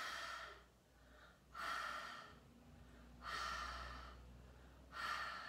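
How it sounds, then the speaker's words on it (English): Slow, soft ujjayi yoga breaths drawn and released through a constricted throat, a hushed whispery rasp repeating in four long waves, close and quiet. "there's this lovely whisper in the back of the throat"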